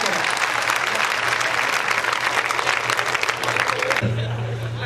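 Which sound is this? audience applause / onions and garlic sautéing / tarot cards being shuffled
audience applause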